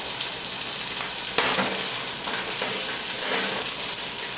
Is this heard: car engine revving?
no